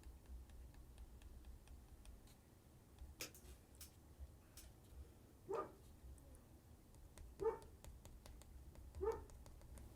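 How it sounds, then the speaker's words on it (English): A few faint, distant dog barks spaced apart against a quiet background with light ticking. "So you probably just actually heard Kona barking."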